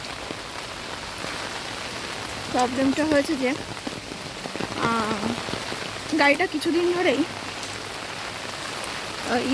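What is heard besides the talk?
heavy rain pouring outside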